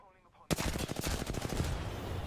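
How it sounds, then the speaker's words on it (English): Apex Legends gunfire breaks out suddenly after a quiet moment as a loud, close, rapid automatic burst of evenly spaced shots. The firing continues with sustained rattling and a trailing rumble. "Getting shot at."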